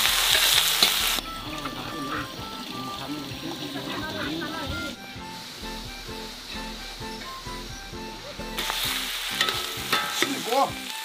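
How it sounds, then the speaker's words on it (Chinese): Cured pork and chili stir-frying in a hot wok, a loud continuous sizzle with scraping stirs, bursts of harsher spitting at the start and end, and a voice talking over it through the middle. "腊肉下锅，辣椒。"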